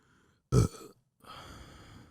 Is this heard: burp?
yes